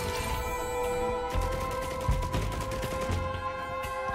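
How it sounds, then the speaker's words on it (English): An activated turret firing in Risk of Rain 2, heard as a dense volley of rapid shots. Continuous droning game music and effects sit underneath, and no one talks. "let's activate this turret as well."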